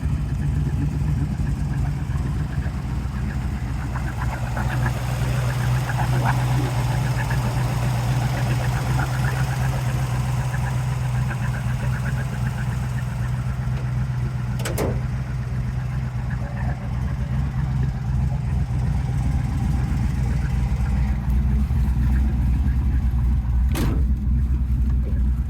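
A 1969 Camaro Z28 with its original DZ302 engine idles steadily with a low, rumbling drone that stays loud and close throughout, with a couple of brief sharp clicks.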